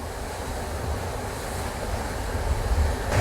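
Sea waves rolling onto Kappil Beach at Varkala, Kerala, a continuous broad wash of surf mixed with wind buffeting the microphone, swelling slightly louder toward the end, with no voices.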